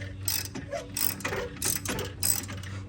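Ratchet wrench cranking a coil spring compressor on a second-generation Dodge Ram 1500 during a leveling kit install: rapid, steady clicking strokes repeating close up, with no talk.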